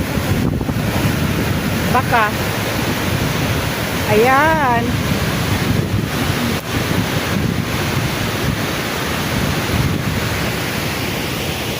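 Strong wind buffets the microphone over rushing, surging water at a Hong Kong water reservoir, a steady broadband roar throughout, with a person briefly speaking and a faint whistle-like warble partway through.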